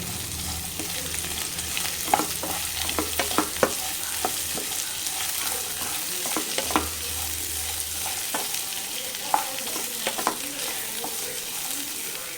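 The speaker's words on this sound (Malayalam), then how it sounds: "ഇതിലേക്ക് ഇനി സവോള അന്നത് ചേർക്കുക നന്നായിട്ട് മിക്സ് ചെയ്യാം" Sliced onions frying in oil for a soya curry, stirred steadily in a pan: a continuous close sizzle with repeated scraping and clinking strokes of the spoon throughout, no voices.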